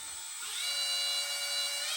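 A power drill whines at high pitch, spinning up and holding a steady tone as it drives a screw into a plastic Native Watercraft Titan X 12.5 kayak, fairly close but not loud.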